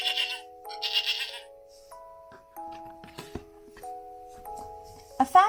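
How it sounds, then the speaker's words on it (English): A goat bleats a few times, its wavering cries standing out against sustained musical tones and brief rustles, ending with a louder call. "Let's see what a goat sounds like."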